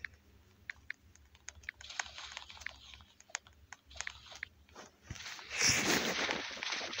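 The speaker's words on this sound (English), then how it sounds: "I'm gonna type in I'm recording." Quiet, close computer keyboard typing in irregular light clicks and taps during Roblox play, ending in a louder burst of noise.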